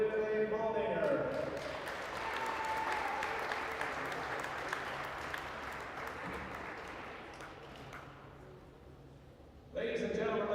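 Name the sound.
crowd applause at a basketball game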